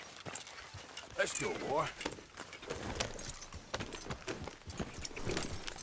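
Horse hooves clip-clop on the ground in the Western video game Red Dead Redemption 2, a steady loose rhythm at moderate distance while a voice speaks over it and background ambience continues.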